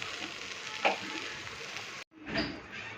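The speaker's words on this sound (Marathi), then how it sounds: "हे सगळं एकत्र करून घ्यायचं आणि थोडा वेळ भेंडी शिजवून घ्यायची आहे" Okra sizzles as it is stirred in a hot pan while the bhindi bhaji cooks, a close, steady frying crackle that cuts out briefly and then resumes.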